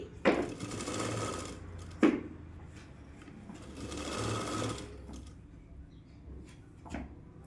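A sewing machine stitches a Punjabi dress in a few short runs, the motor whirring up and down near the microphone with sharp clunks as the stitching starts and stops.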